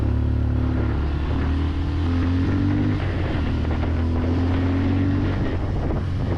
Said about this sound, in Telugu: మనం థ్రోట్లు ఓపెన్ చేసినప్పుడల్లా దాని రెస్పాన్స్ ఎగ్జాస్ట్ సౌండ్లో వినిపిస్తూనే ఉంటుంది మనకి.